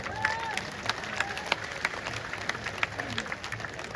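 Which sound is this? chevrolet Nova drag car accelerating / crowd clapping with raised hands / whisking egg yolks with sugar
crowd clapping with raised hands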